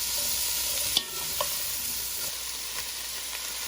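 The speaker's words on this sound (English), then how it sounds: "Deglazing the pan." A pot roast pan being deglazed and scraped, a continuous hiss and sizzle of liquid hitting the hot pan with a few scraping knocks, close and steady without talk.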